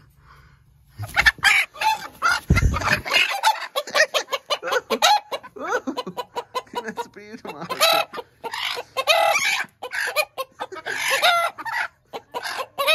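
A hen clucks repeatedly and a rooster joins in with sharp calls, loud and close, while a person speaks briefly over the birds.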